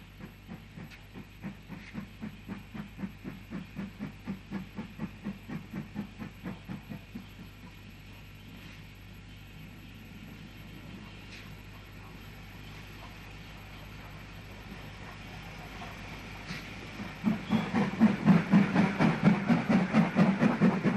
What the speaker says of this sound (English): a train approaches from the south on a line known then and now as the Bluebell Railway